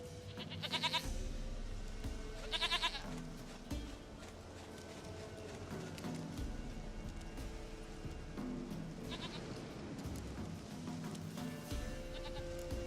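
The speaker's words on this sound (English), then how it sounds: "Goat of mine, dearest, sweetest goat." A goat bleats in The Witcher 3: Wild Hunt, several loud wavering bleats in separate bursts over a steady bed of game music and ambient noise.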